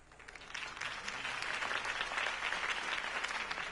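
A crowd applauds steadily in a Batman video game, a dense wash of clapping that swells in after a brief pause and continues at a consistent level.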